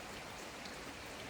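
Rain falls outside a small old house in Italy as a steady, even hiss of drops on surfaces, soft and unbroken without voices.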